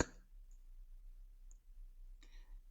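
Faint computer mouse clicks, a soft click at the start and another near the end, quiet and close in a near-silent room.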